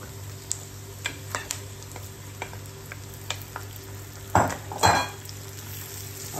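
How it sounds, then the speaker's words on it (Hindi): Okra frying in hot oil with turmeric, a soft continuous sizzle with scattered utensil clicks and taps, then a couple of louder clatters of a spoon or pan near the end. "अभी आ गया टाइम भिंडी डालने का।"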